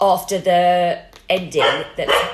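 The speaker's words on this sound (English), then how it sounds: "that was my dog" A pet dog barks in several sharp, close bursts, breaking into a person's talking and overlapping their voice.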